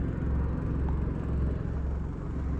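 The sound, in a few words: car engine running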